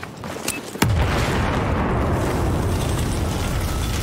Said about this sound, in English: C4 has been planted!